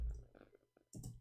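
Computer keyboard being typed on, a few quiet, scattered key clicks in a sparse, irregular rhythm with short gaps between them.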